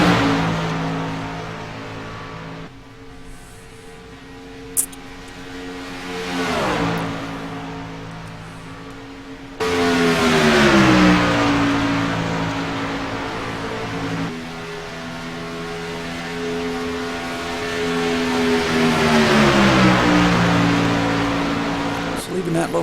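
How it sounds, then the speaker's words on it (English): Race cars running practice laps on a track, engines droning and rising and falling in pitch as they pass, sustained and loud under ongoing commentary. "Josh Abate out there doing some lap times."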